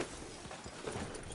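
Horse hooves clip-clop at a walking pace in the Red Dead Redemption II western game, a steady run of soft close thuds with no voices over them.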